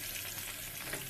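Garlic frying in melted butter in a pan, a dense, steady sizzle that is close and continuous with no talking.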